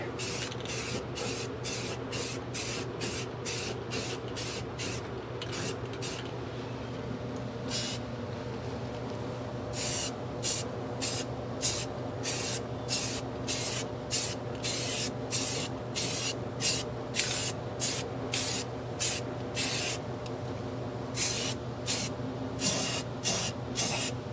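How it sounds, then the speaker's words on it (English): Spray painting for touch-up work: a long series of short hissing spray bursts in a quick, regular rhythm, close and fairly clear over a low steady background hum. "I've got some more painting to do over there. Little touch-up work here."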